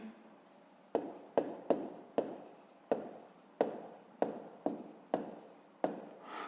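Pen strokes on paper while a pupil works a fifth-grade maths exercise by hand, a run of about ten distinct scratchy strokes with sharp starts and fading tails, close and clear, no voice over them.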